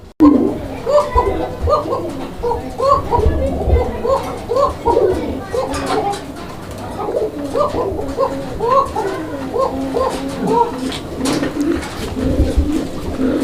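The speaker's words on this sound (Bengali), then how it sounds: "এটা হান্ড্রেড পার্সেন্ট ডাকের সুরটা আপনারা যতটুকু শুনছেন" Koka pigeons coo close by in a steady stream of repeated, rhythmic throaty calls that overlap one another, while voices and children can be heard faintly in the background.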